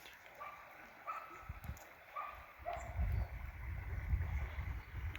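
A hunting dog barks and yips several times in short bursts outdoors at a distance by water in golden autumn, over a low rumbling background.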